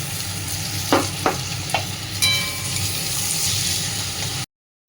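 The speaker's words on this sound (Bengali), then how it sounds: "এবার মিক্সির এই পেস্টটা দিতে হবে" Ground spice paste sizzles and fries in a kadai, with a few sharp scrapes of a spoon stirring it near the start over a steady frying hiss that stops abruptly near the end.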